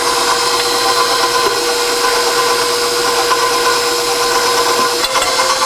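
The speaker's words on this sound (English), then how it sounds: "I'm going to turn my mixer on low with the dough hook" A stand mixer runs on low with a dough hook, working brioche dough: a steady, loud motor whir holds constant throughout, with faint rhythmic knocks from the dough turning in the bowl.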